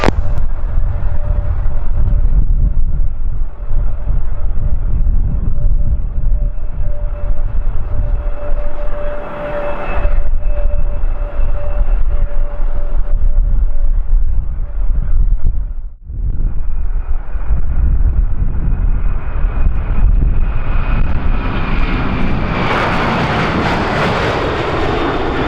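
A Japan Air airliner takes off at Kagoshima Airport in a strong headwind, its engines roaring loud and steady with a sustained whine, wind buffeting the microphone, and the thrust building to a rising hiss near the end.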